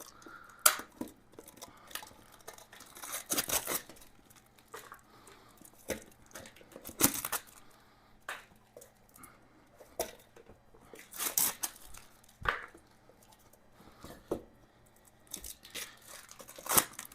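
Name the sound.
cutting material off new motorcycle tires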